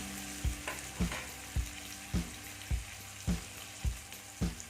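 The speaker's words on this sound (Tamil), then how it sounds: "அடுத்து தக்காளி போட்டுடலாம் ரெண்டு தக்காளி கட் பண்ணி வச்சுருக்கேன் இது கொஞ்சம் நேரம் நல்லா வதங்க" Onions and tomatoes sauté in a pan for an egg chilli bread, with a steady frying hiss broken by regular stirring scrapes about every half second, close and moderately loud, no voices.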